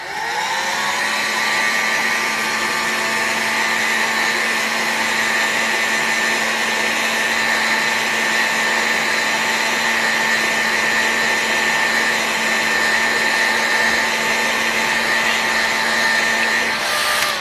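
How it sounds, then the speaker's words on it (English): A heat gun warms an Enya 60-4C model engine for front bearing installation, producing a steady, loud blower whoosh with a constant whine that runs unchanged from start to end. "I'm just going to heat this up a little bit and we'll get our front bearing installed"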